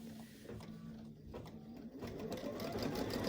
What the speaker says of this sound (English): Foot down, needle down, hit the gas, and it's going to stitch the second design.